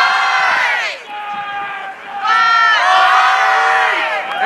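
Spectators at a Michigan versus Texas quidditch match cheer and shout together in a loud, close burst of overlapping yells that dips briefly, then swells again.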